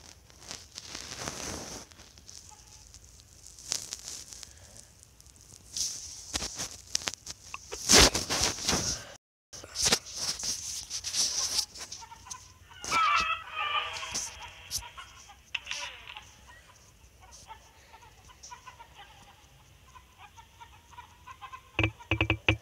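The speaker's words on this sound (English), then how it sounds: "Chicken." Chickens in the Egg Inc mobile game cluck in scattered bursts, interleaved with game effects and tearing noises, the calls coming in uneven clusters across a long stretch.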